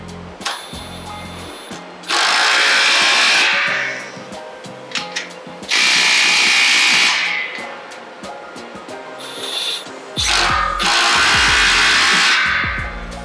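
Power tool tightening an exhaust pipe clamp on a catback exhaust for a Honda FL5 Civic Type R, three loud whirring bursts of a few seconds each separated by quieter pauses with small clicks, close.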